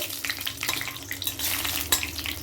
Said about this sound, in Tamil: எண்ணெய் சூடாக எடுத்துங்க. இதில் 3 பட்டையும் 2 பிரிஞ்சி இலை போட்டுக்கோங்க.